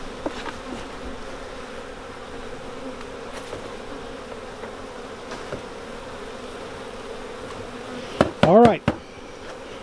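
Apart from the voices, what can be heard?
honey bees buzzing while being moved to a new hive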